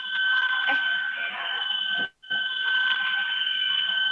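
A phone rings in a classroom during a chemistry lesson with litmus and soda solution, a sustained electronic tone with a brief gap midway, loud and close.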